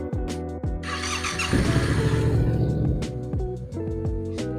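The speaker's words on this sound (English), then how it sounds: "I'm just gonna start her up" Yamaha R7 motorcycle engine cranks and fires up loudly at close range, settling into a steady rumbling idle, with a brief quieter dip near the end before the engine note resumes.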